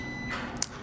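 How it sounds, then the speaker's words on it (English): A microwave beeping once, a short faint electronic tone in a quiet room, heard alone. "If you hear that beeping, that's my microwave."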